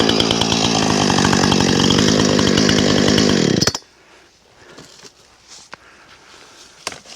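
A loud Husqvarna 455 Rancher chainsaw roars steadily as it cuts through wood, then abruptly stops, leaving quiet background with a few faint rustles and knocks.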